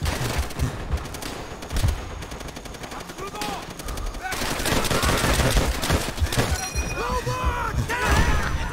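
Rapid gunfire from a Call of Duty: World at War battle, with M1 Garand and machine gun bursts cracking near and loud in dense volleys, joined by crashing impacts and a voice talking over the fight.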